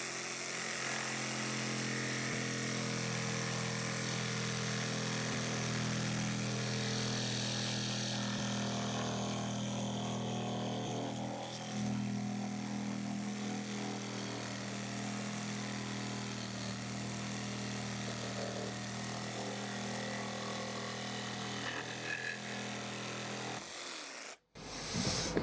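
A 20-volt HBM cordless jigsaw saws steadily through threaded rod, a loud continuous buzzing whine with a strained, grinding edge that holds for over twenty seconds before cutting off abruptly.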